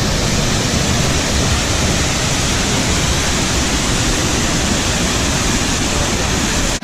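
Ricketts Glen State Park waterfall: a loud, constant roar of rushing, crashing water, unbroken and close, with no voices over it.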